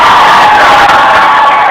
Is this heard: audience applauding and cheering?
yes